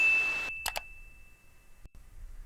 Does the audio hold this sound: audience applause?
no